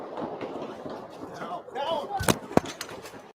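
Sharp gunshots during a shooting in D.C., two loud cracks close together late in the moment, heard amid agitated talking and crowd noise.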